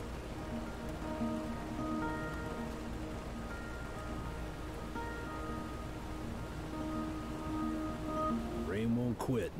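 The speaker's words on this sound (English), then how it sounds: "The rain." Steady rain falls in the video game Road 96, a continuous wash of patter heard under soft background music with tonal notes.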